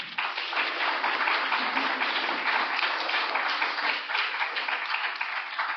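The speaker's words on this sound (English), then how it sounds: "I do just want to give our panelists a massive round of applause." Audience applause for the panelists after a women in data science and AI panel discussion, a sustained, even wash of many hands clapping at steady loudness with no talk over it.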